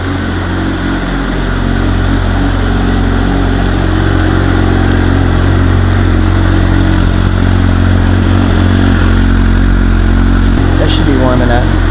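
A 2009 Suzuki GSX-R 750 motorcycle engine idling to warm up, heard as a loud, steady, close rumble held throughout at an even level, with a faint voice over it near the end.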